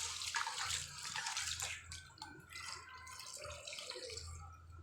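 Water poured over a mix of chana and mash lentils while washing dal, a close splashing, trickling rush with drips and bubbling, continuous and moderately loud with no talk.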